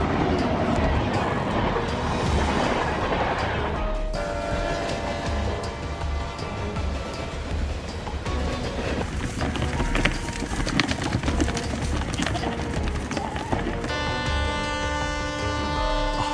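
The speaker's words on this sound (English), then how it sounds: "a high-speed train collided with a duck on the railway tracks" A high-speed train runs along railway tracks at about 110 km/h, a loud, continuous rumble and rush, with a sustained horn-like tone rising in the latter part.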